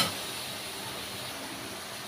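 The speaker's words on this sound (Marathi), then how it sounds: "आता याचे आपण काप करून मसाला काढून त्याच कढईमध्ये फ्राय करून घेऊ" Paneer slices fry in butter and oil in a kadai, giving a steady, even sizzling hiss that stays close and moderately loud throughout, with no voices.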